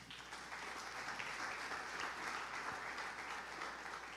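Church congregation applauding in a steady, sustained wash of clapping that holds for several seconds, moderately distant and with no speech over it.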